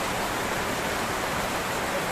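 A steady, dense hiss of heavy rain pouring nearby, with water dripping through a leaking roof, continuous and even throughout with no pauses.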